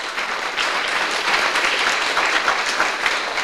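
Loud crowd applause at a Cub Scouts Blue and Gold ceremony, dense and continuous clapping from many people, sustained evenly throughout without voices standing out.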